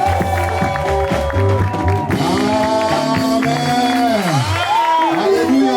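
Church congregation applauding and cheering with whoops and shouts during a French-language worship service, loud and sustained, mixed with singing and music.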